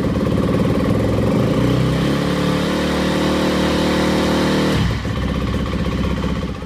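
A KTM four-stroke dirt bike engine runs loud and close, a rough throbbing rumble with rising revs, then the pitch drops suddenly toward the end as it settles into a lower, steadier idle.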